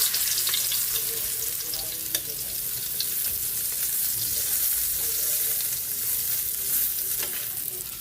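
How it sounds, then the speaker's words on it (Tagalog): Fish frying in a pan, a steady bright sizzle and crackle of hot oil with occasional sharp pops, close and continuous throughout, with no talk. "luto na yung ating pritong isda"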